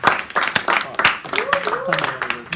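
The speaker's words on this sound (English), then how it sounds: "Let's give them a round of applause for those guys." An audience applauds for service heroes in a room, a dense wash of clapping with cheers, mixed under overlapping voices and shouts from the crowd.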